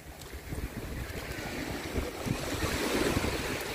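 Sea waves wash onto Deauville beach, a continuous broadband surge and hiss swelling gradually louder, with wind buffeting the microphone and no voices.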